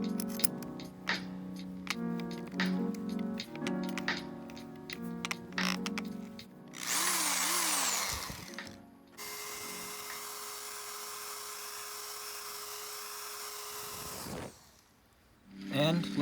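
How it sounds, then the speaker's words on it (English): After some tinkling and clicks, a power drill whines steadily for several seconds drilling a metal heat shield plate, then stops, loud and close, with a short burst of grinding before it. "Let's move up to the next drill bit size."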